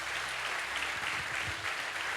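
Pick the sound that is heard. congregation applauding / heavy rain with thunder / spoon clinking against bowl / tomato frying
congregation applauding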